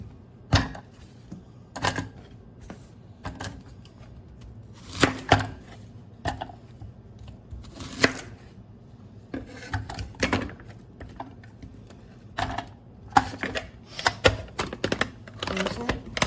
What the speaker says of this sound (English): So just cut your onion up or vegetable,